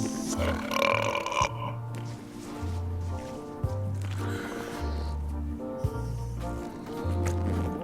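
Cartoonish burps traded back and forth in a burping contest from the video game Return to Monkey Island, several drawn-out belches in a row over a steady musical backing.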